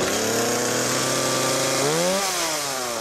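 Small two-stroke chainsaw motor running at high revs, loud and close, holding a steady whine before dropping in pitch near the end, with no talking.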